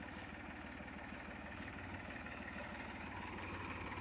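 A tractor engine runs steadily on a farm field while manure is being loaded, a continuous low rumbling idle throughout with no voices.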